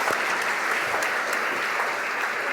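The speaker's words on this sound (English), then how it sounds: "Please join me in giving them a warm hand of applause." A lecture audience gives a warm round of applause, a dense, continuous burst of many hands clapping at steady loudness for the whole short stretch, with no speech over it.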